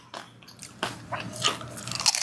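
Close, crisp crunching as crispy fried pork skin from crispy pata is bitten and chewed, several sharp cracking bites in quick succession.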